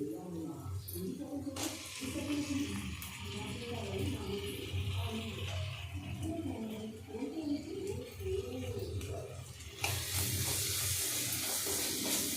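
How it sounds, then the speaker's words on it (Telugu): Tomatoes are stirred into softened frying onions in a pan for an Andhra-style brinjal egg pulusu, giving a soft sizzle and scraping under a voice talking throughout, with the hiss growing brighter near the end. "ఇప్పుడు టమాటోస్ యాడ్ చేసేద్దాం దీంట్లో"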